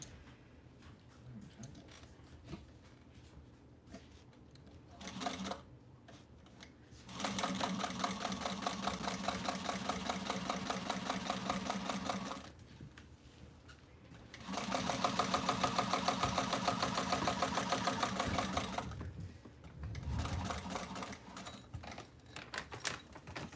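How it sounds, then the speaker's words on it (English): A sewing machine runs in two long stitching passes along the bottom edge of a handmade piece, a fast, even mechanical chatter close by, separated by quieter pauses with small handling noises. "we're gonna sew along the bottom of the edge. I'm gonna sew just the bottom."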